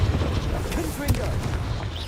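A Confringo blasting spell goes off in the Hogwarts Legacy video game, a muffled boom with a sharp burst about halfway through, set in dense, rumbling game noise with voice activity.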